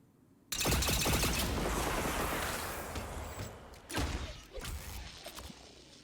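Wardcliff Coil exotic rocket weapon firing in Destiny 2: a loud crackling volley of rapid bursts that decays over several seconds, followed by a couple more sharp blasts and mechanical clatter.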